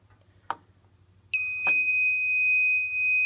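A mass notification fire alarm system with SER Safety devices sounds a steady, loud electronic tone that starts abruptly and holds, after two sharp clicks over a low background hum.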